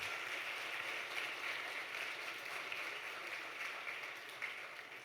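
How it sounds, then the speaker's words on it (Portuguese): Church congregation applauding during a Pentecostal worship service, a steady dense wash of clapping that holds fairly loud throughout before easing slightly at the end. "Aleluia, vamos aplaudir Jesus, Central."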